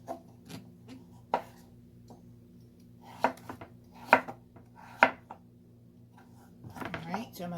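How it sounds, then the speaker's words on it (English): Knife chopping butternut squash into cubes on a cutting board: scattered sharp thunks, some single and some in quick pairs, close and moderately loud, with a faint background hum. "I'm just going to cube up the rest"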